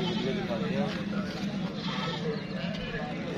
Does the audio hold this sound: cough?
no